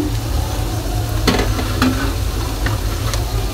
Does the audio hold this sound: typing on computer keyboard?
no